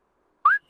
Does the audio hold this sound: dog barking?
no